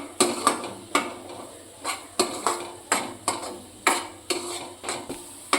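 Spices being stirred into paneer curry in a pan: a steady series of about a dozen sharp scraping strokes, close and fairly loud, with a light sizzle underneath and no talking.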